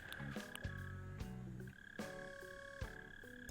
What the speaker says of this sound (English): hear a mole cricket.